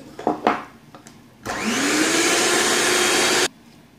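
An electric hand mixer beats chocolate Yule log cake batter after flour, cornstarch and baking powder go in: a brief clatter, then a loud, steady motor whir lasting about two seconds before cutting off.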